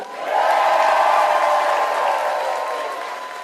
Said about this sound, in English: It sounded like there were about 40 people there at most cheering 4 more years.